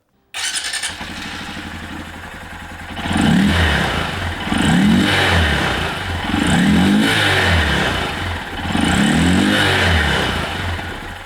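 A 2022-or-later Honda Grom with a TST Industries Worx airbox cover intake idles, then revs in four or five loud, close throttle blips that rise and fall steadily, with no talk.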